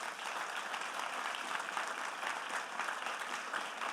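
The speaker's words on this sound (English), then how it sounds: "we should have one huge round of applause for all 12 presenters" An audience at a Three Minute Thesis competition at ANU claps steadily in a dense, sustained round of applause, moderately loud, with no voices standing out.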